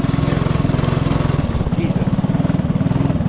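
Custom go kart motor at full throttle during a top speed run, a loud, rapid rhythmic putter that briefly dips and recovers, close and continuous throughout.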